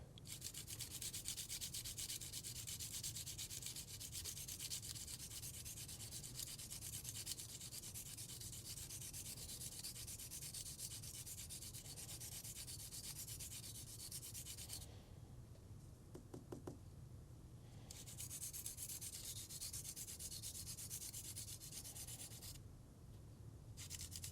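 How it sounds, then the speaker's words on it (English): Charcoal pencil tip rubbed against sandpaper to flatten its angle, a faint, continuous scratchy rasp of steady strokes that pauses briefly near the end before resuming. "just sand it down to get rid of the little angle at the top"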